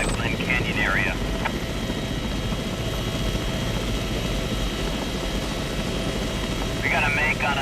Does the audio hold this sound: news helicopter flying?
yes